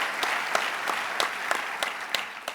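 Audience applause at a state executive budget address, a steady wash of many hands clapping with regular sharper individual claps standing out, moderately loud and close.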